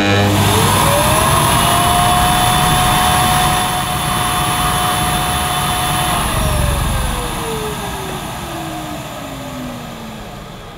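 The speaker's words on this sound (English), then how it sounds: "Okay, let's see on max power what this cleaner will measure." A Karcher VC 6 vacuum cleaner, rated at 600 watts, runs on max power with a loud, steady whine. It rises at the start, holds level, then winds down, its pitch sliding lower as it fades near the end.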